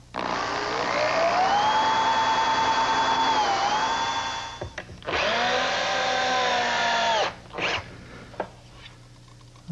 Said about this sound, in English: pre-drill and then attach the leg with drywall screws